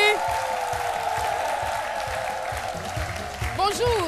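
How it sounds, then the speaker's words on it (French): Studio audience at a live Ivorian midday TV show clapping for an arriving guest, a continuous mass of applause with music and a voice audible over it. "On applaudit très fort pour lui."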